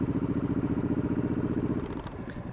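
Motorcycle riding up the road to Ricketts Glen, its engine close and pulsing in a fast, regular low throb that eases and fades slightly toward the end.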